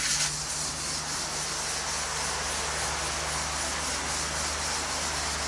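Shellac rubber pad rubbed over a wooden surface while French polishing an Art Deco clock, a continuous close, loud rubbing hiss with no pauses and no speech.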